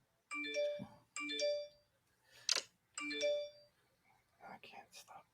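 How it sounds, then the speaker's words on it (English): A mobile phone ringtone plays its melodic chime three times during an indoor talk, quiet and clear, followed by faint, brief vocal sounds. "That's my phone."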